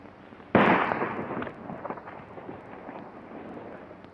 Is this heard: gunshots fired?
yes